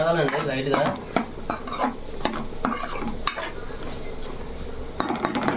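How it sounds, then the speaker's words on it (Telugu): Food sizzles and fries in a pan as a utensil stirs it, with frequent scraping and clinking strikes against the metal over a constant crackling hiss, heard up close. "కాసేపు అలా వదిలేసామంటే కొంచెం వేగిద్ది అనమాట"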